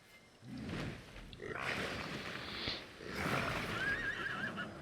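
A horse in the video game Lord of the Rings Online gives a loud, rising whinny. Hoof clip-clops and other game noise play around it.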